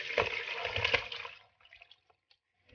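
Water from soaked pork belly drains out in a short splashing pour that fades after about a second and a half, followed by a few faint drips and small clinks.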